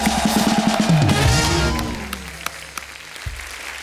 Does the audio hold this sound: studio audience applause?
yes